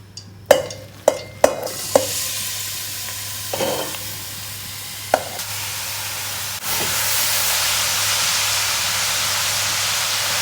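Grated carrots frying in oil, a few sharp clanks of a spoon against the pan at first, then a continuous loud sizzle that swells and holds steady to the end.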